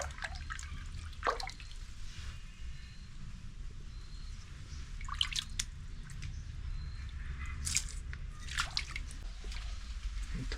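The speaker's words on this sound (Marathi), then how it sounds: "इथं गरम पाणी येतं." Hot spring water from a natural spring trickles and drips into a stone pool, with scattered close drips and splashes over a steady low flowing murmur, faint and continuous.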